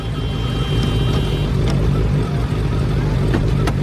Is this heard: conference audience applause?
no